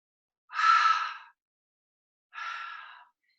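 Two breathy exhales during a core workout, the first longer and stronger, the second softer after a pause of about a second, close and clear against silence.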